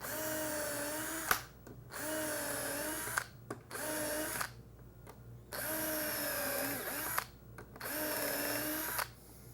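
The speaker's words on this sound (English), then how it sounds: "we're just going to pre-drill for our screws" A power drill whirs in several bursts of about two seconds each, separated by short pauses, loud and close, pre-drilling screw holes for cabinet door hinges.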